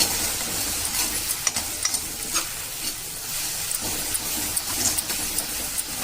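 Beaten eggs stirred into hot oil for egg semiya upma, a steady sizzle and crackle of frying with scraping spoon strokes, close and continuous without voices.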